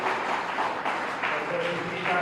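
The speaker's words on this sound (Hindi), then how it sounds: "इस बीच आप तालियां बजाएं" An audience at a Rajasthani poetry gathering applauds in a moderate, continuous patter of clapping, heard at a slight distance with a voice speaking faintly over it.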